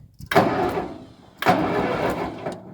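A 1955 Ferguson TO35 tractor, just converted from 6 to 12 volts, cranks over twice: two loud bursts of starter churning, each lasting about a second, separated by a brief pause, with no talking.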